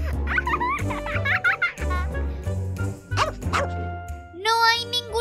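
Repeated dog barks and yips in a playful indoor escape-room challenge, mixed with children's voices, giggling and background music.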